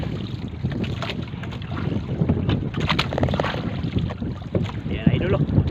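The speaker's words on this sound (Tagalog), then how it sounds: "Medyo maalon." Rough, choppy sea and gusting wind on a small fishing boat out squid fishing, a steady broadband rush of wind buffeting the microphone over sloshing water and hull noise, continuous throughout with no talk.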